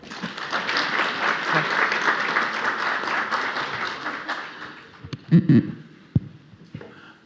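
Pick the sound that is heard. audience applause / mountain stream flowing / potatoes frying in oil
audience applause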